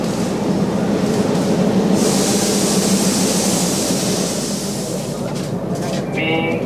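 The Yal Devi passenger train pulls into Kurunegala railway station with a close, loud, steady rumble of wagons rolling over the rails and a brief wheel squeal near the end.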